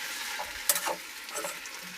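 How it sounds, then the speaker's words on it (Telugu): Tomatoes frying over low to medium flame in a pan give a steady soft sizzle, with a few brief scraping stirs of a spoon partway through; no one speaks. "కలుపుకోవాలి టమాటాలు."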